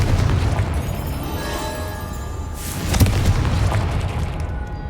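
The Confringo fire spell bursts in Hogwarts Legacy, a deep booming explosion rumbling low with a sharp crackling impact near the middle, surrounded by sustained roaring magical blast noise.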